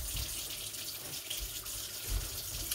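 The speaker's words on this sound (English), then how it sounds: "I'm hitting it with the water and just rinsing it off" Tap water runs steadily over frozen chicken thighs in a sink, a close, continuous splashing rinse with no talking.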